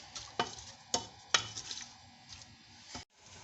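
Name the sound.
onions frying golden brown in a pan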